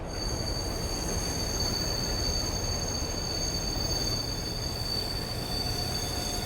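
Train wheels squeal high and steady as the emergency brake is applied, over a loud, constant rumble of railroad cars, a sustained screech with no voices.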